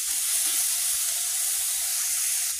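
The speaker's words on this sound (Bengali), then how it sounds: "নেড়ে দিলাম।" Onion, garlic and chilies sizzle steadily in a pan with salt, a bright continuous hiss with soft scraping from stirring underneath, close and unbroken throughout.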